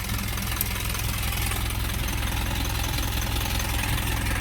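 An Isuzu Elf truck's 4HF1 mechanical diesel engine idles with a steady, loud, close-up clatter and low rumble that holds constant throughout.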